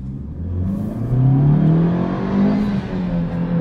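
Toyota Hyryder engine revving hard and climbing steadily toward 6000 rpm, a loud rising drone that swells for several seconds and holds near the top, close by with no talking.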